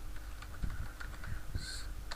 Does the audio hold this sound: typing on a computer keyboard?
yes